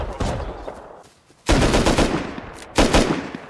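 Pump-action shotgun gunfire in the survival game Rust comes as loud bursts of sharp blasts, with a brief lull between the first burst and the next two, and no talking.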